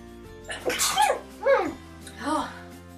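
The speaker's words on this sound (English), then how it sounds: "I'm gonna sneeze" A girl sneezes, with a sharp burst followed by two more breathy sneeze-like bursts in quick succession, close and fairly loud over quiet room tone.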